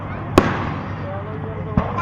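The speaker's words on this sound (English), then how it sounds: "somebody probably has a shotgun, and they put a firework in it and shot it up" Fireworks exploding outdoors: two sharp distant bangs about a second and a half apart, with a third starting at the end, over a steady background hiss.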